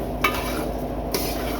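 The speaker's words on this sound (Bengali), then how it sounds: "এবার নেড়ে চেড়ে দিব।" Raw rice being stirred in a cooking pot, with two brief scraping strokes over a steady background hiss.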